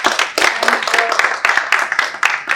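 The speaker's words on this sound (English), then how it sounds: "a big clap for all of us" Meeting attendees clap together in a short, dense burst of overlapping claps that stays fairly loud and steady throughout, with no voices.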